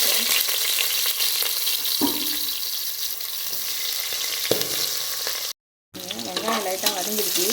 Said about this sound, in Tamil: வெங்காயம் ஆட் பண்ணிக்கலாம்.